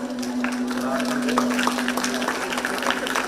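Scattered audience clapping at an award ceremony for conference prize winners, steady and moderate, with a constant low hum and a voice speaking over it.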